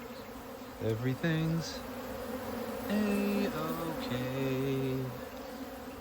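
Honey bees from a big beehive buzz loudly and close, their droning hums rising and falling in pitch as individual bees pass near. A short spoken phrase is heard briefly.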